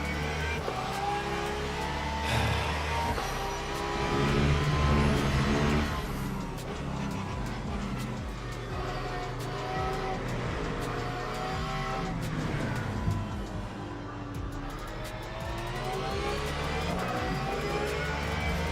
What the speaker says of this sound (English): That Mustang does sound good.